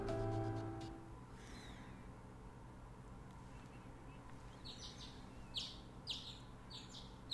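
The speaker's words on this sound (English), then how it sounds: "The birds chirping woke me up." Morning birdsong from a video game: several short, bright chirps sound softly near the end over a quiet background hum, after a brief musical tone at the start.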